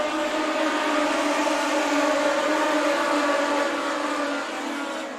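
Legend race cars at Tucson Speedway in a main event, their engines merging into a loud, sustained, droning whine that holds steady and then eases slightly near the end.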